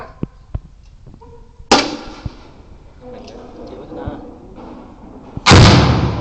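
M79 grenade launcher fired during a Thai border patrol police training session: two sharp, loud blasts with decaying tails, about four seconds apart, between sparser pops and muffled outdoor activity.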